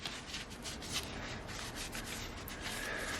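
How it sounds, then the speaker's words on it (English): Cloth wiping the injector pump mounting surfaces on a Ford Ranger engine, quiet repeated close-up rubbing strokes, faint and alone. "Just want to clean up your surfaces a bit, as well as on the injector pump"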